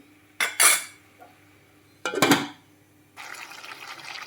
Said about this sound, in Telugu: ఇది కూడా మిక్స్ చేసుకోండి ఒకసారి మూత పెట్టి మగ్గించుకుందాం